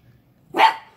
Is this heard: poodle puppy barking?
yes